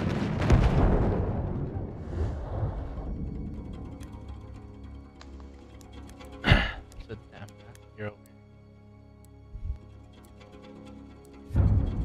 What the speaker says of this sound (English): Bomba fırlatıyorum!